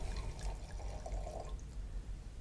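Waimea Estate white wine is poured from a bottle into a glass, a soft gurgling trickle of liquid with faint splashes, fairly quiet and up close.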